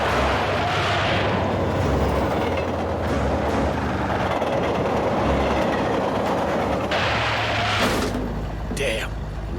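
In the Blake and Mortimer video game, a train thunders past with a heavy, continuous rumble and clattering wheels, plus a few sharp bursts near the end.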